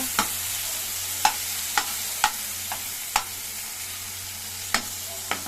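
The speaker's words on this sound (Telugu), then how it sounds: "ఇటుపక్క టమాటా వేసుకుంటే ఇవి వేగుతాయండి" Fenugreek leaves, onion and tomato fry in a pan under a steady, soft sizzle, punctuated by repeated sharp clicks of a spoon stirring and tapping against the pan.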